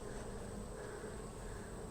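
Honeybees buzz steadily around an open hive during a fall inspection of a weak colony, a dense, even drone that holds at a quiet level with no voices.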